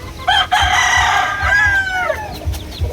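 A pumpkin sweater gamecock crows loudly and close, one drawn-out cock-a-doodle-doo with clucking, over a low rhythmic background rumble.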